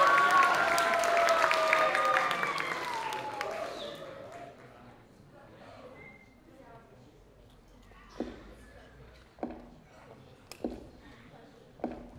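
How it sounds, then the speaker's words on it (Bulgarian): Crowd at a cosplay stage show at a game convention applauding and cheering for a performer, fairly loud at first, then fading within a few seconds to quiet, leaving a few isolated claps or thumps. "Аплодисменти!"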